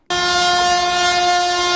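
A Vande Bharat sleeper train on a high-speed trial run sounds its horn, a single loud, sustained, steady blast that bursts in abruptly and holds for over a second, close and dominant with no voices.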